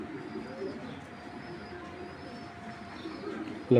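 Racer pigeons coo in a low, murmuring run across a loft, soft and steady throughout, with a brief louder knock or rustle at the very end.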